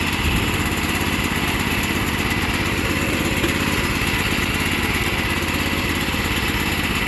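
A small engine running on choke to burn off old fuel: a continuous, buzzy, slightly uneven drone held close and steady for several seconds, with no talk over it.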